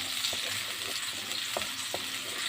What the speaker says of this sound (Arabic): وخرطنا بصلايه صغيره كده حطيناها على الزيت